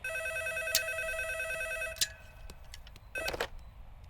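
A telephone rings inside a room with bright electronic bursts, a long ring and then shorter ones, interrupted by sharp clicks and thumps between rings.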